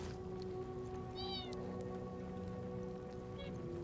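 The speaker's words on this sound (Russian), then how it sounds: "Не мяукай." A cat meows twice indoors, a short cry early on and another briefly near the end, both moderately faint over a constant background hum.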